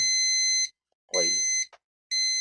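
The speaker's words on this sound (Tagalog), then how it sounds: "Ayun na gumana, naka-alarm na." A safety timer alarm on a wye-delta forward-reverse motor control circuit sounds in loud, steady electronic buzzer bursts, with a voice speaking briefly between them.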